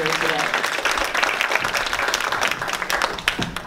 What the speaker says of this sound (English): please give a big round of applause to Carol Hayashino